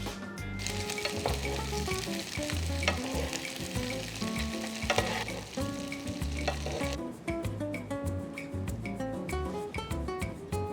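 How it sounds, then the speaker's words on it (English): Fish fries in a pan with sambal belacan butter while being basted, a loud continuous sizzle close by, broken by scraping and spooning sounds, with no speech. "We're gonna turn down the heat to medium and then add in our sambal belacan butter. And then we can baste, like a chef."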